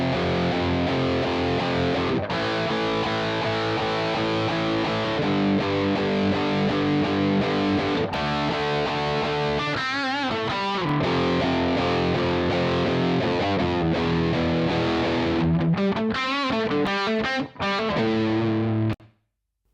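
Electric guitars are thickened through a studio compressor, giving a loud, sustained, distorted chordal passage that plays on without a break and stops abruptly at the end, with no talking.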